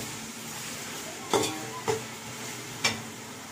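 Onions frying with ginger garlic paste in a pan for ghee rice, a steady soft sizzle punctuated by three sharp scrapes of a spoon stirring against the pan, close up with no talk.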